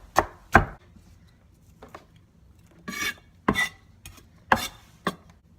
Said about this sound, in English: Just kind of roughly chop up the onions.